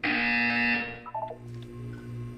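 A loud, harsh electronic buzzer from the Portal 2 video game sounds for about a second, then cuts to a fainter lingering tone and low hum.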